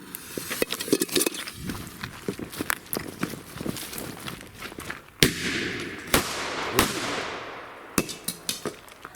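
Old triple-shot firecrackers go off beneath a light aluminium pot, giving a string of sharp cracking bangs and clanking hits, with a few louder blasts near the end.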